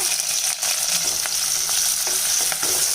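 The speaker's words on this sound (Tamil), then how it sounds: "இப்போ நறுக்கி வச்சுருக்க பெரிய வெங்காயம் சேர்த்துடலாங்க" Chopped large onions sizzle steadily in hot oil with a bright, crackling hiss and occasional stirring scrapes, close and continuous.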